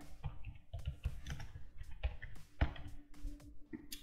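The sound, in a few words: typing on a computer keyboard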